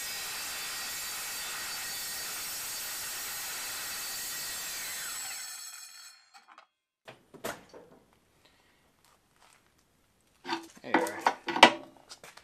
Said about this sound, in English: I'm gonna take this circular saw, I'm gonna go about halfway depth through and just score this little tab and this little tab